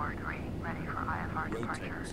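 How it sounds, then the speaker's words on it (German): A steady, low engine roar from a large, heavily loaded airliner taking off in Microsoft Flight Simulator X, on a flight from Amsterdam to St. Maarten. Someone talks continuously over the rumble. "Okay, Rotate und es geht ab in die Luft. Da erheben wir uns in die Luft."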